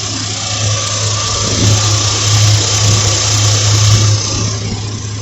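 A 4.3 Vortec V6 engine in a 1994 Chevy C1500 work truck runs strong and close, a loud, steady mid-pitched hum that swells slightly as it revs a little, with no talking.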